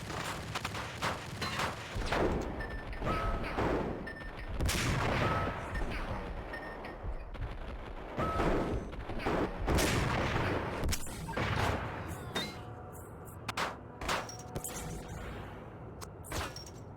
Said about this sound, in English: Who else is shooting me?